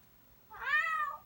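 A pet parrot mimics a cat's meow, producing one clear, drawn-out rising and falling mew at close range, with no talking over it.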